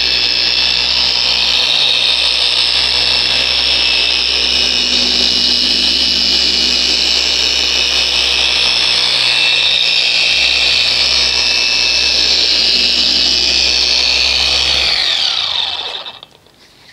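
Power buffer polishing out swirl marks on the black paint of a Honda Accord under light pressure, a loud steady whirring hum that runs unbroken before spinning down at the end.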